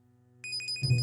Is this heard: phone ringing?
yes